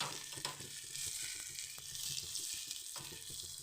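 Apple pieces frying in hot oil for a royal fasting kheer, giving a steady, close sizzle and crackle that holds throughout with no voices.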